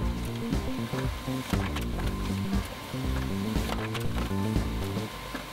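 A printer attached to a KHPU 10K hydrostatic pressure testing unit runs off a test report, giving a close, busy mechanical chatter of rapid clicks and whirring feed motions that pulse in short bursts.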